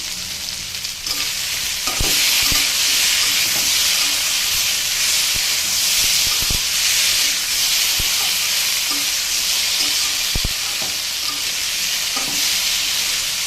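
Nigella seeds and dried red chillies frying in hot oil give a loud, steady sizzle and hiss throughout, with brief clinks of a utensil against the pan now and then.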